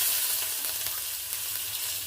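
Curry leaves drop into hot oil and sizzle loudly, a dense, bright crackling hiss that holds steady, close and alone, with slight stirring texture.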